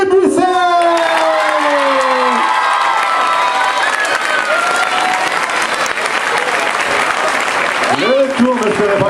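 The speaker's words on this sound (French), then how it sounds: "Mesdames, mesdemoiselles, messieurs, veuillez applaudir monsieur Louis Busset." A stage-show audience breaks into loud applause with cheers and whoops, the crowd clapping continuously while a held vocal or musical tone slides at the start and voices shout through the noise.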